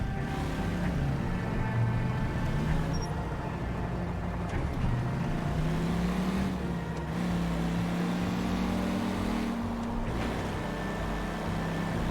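A car engine drones steadily in the video game L.A. Noire, its pitch rising and falling as the vehicle drives, loud and continuous with no speech over it.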